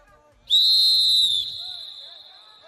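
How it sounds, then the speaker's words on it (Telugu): A long, loud, steady whistle blast of about a second at a sports competition for legislators, starting sharply and then trailing into a quieter tail of crowd ambience. "Okay, ready for long whistle."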